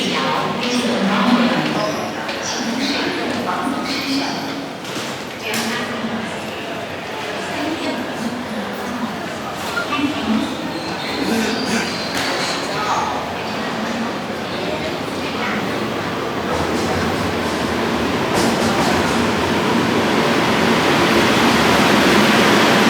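A Beijing subway train fills the scene with a loud, continuous rushing rumble that swells toward the end, with voices murmuring faintly beneath it.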